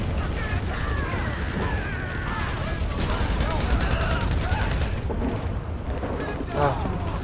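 Rapid gunfire in GTA Online crackles in dense, continuous bursts of shots amid game noise, with a person talking over the shooting.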